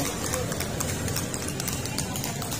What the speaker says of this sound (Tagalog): Yun kabayo.